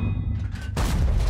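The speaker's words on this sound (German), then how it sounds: "Jetzt hat der AMX auf ihn geschossen." A tank cannon shot in the World of Tanks video game lands as a single loud, sharp boom partway through, and a broad, noisy rumble carries on after the blast.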